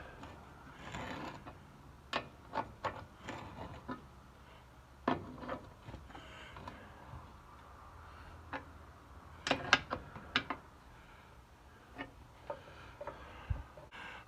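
Exhaust manifold clamps being tightened on a Cat 60 engine, scattered metallic ticks and clicks at an uneven pace, close but fairly quiet, with small clusters of sharper clinks.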